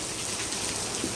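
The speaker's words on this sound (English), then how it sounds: "Watching the rain come down from the tropical storm" Steady, dense rain from a tropical storm pours down around a front porch at an RV campground, a continuous close hiss of drops on surfaces with no voices.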